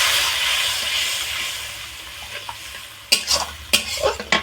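Water poured into a pan of frying turmeric spice paste makes a loud, hissing sizzle that fades steadily, followed by several sharp stirring scrapes and clatters against the pan.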